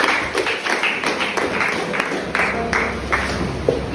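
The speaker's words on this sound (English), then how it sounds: "Let's give them a round of applause." Audience at a business summit clapping, a moderate run of individual claps over a room murmur, fairly close and steady for several seconds.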